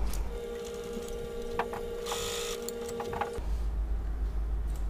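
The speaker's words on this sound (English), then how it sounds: "we'll start sewing and get this party started" A sewing machine stitches seams on a cocoon-style, abaya-type kimono jacket, running with a steady mechanical hum and light rattling for about three seconds before it stops abruptly and the room falls quiet.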